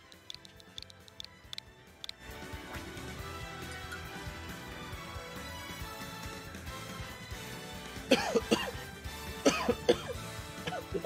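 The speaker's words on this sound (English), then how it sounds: "I'm pretty sure it's not pleasing to listen to someone cough" A person coughs and clears their throat during a livestream of Super Smash Bros Ultimate, a series of sharp bursts at the start and again near the end over steady game sound.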